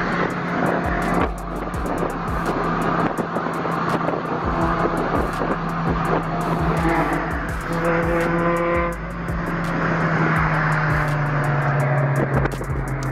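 A Honda S2000 drifts through traffic, its engine droning steadily while tires squeal in drawn-out bursts over continuous road noise and rapid clicking.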